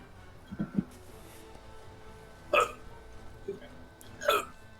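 A sharp, explosive sneeze bursts out, followed a second or so later by another, with quieter vocal sounds scattered around them.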